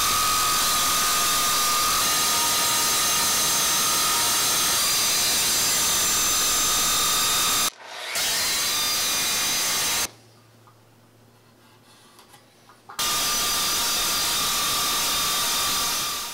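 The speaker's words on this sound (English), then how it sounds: "get in there with the grinder and open that up a little bit" A die grinder cuts into metal for coffee table legs with a loud, steady high-pitched whine and grinding, running nearly continuously with two short breaks, close and alone.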